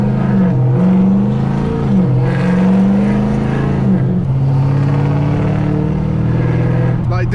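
A Dodge SRT engine rumbles and revs steadily while driving, with pitch rising and falling across a continuous loud drone; someone talks over it throughout.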